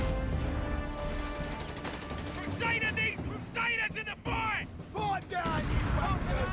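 Machine gun fire rattles through a Company of Heroes 3 battle, with bursts of gunshots and distant artillery-like booms over a constant loud rumble of combat, and a voice speaking over the action.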